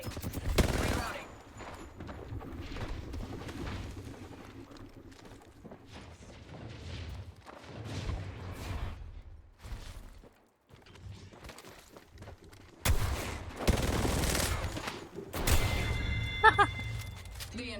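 Rapid bursts of video game gunfire in a shooter match, loud automatic volleys and single shots coming in clusters with gaps between, mixed with game effects and players talking over the action.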